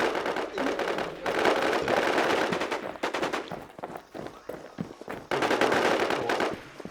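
Automatic gunfire in the video game NewZ comes in rapid bursts of dense cracking shots, broken by short pauses, with a faint voice underneath.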